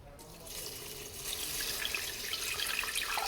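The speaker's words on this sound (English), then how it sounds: "it says to add 30 ounces of water" Water pours steadily from a tap into a Thermomix TM6 mixing bowl while making chicken and rice patties, a continuous close splashing rush that grows fuller and slightly louder as the bowl fills, with no talking.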